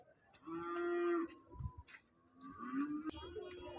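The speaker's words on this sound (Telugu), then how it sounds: "పెద్ద సైజు బర్రె ఉందండి" A large buffalo lows twice, deep drawn-out moos close by, with faint voices and cattle market noise in the background.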